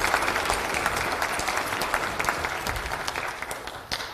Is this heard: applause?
yes